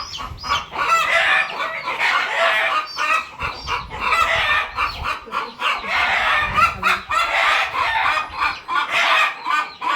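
Several chickens cluck in busy, overlapping bursts close by, while a rooster crows repeatedly among them, the calls rising and falling in loud, uneven waves.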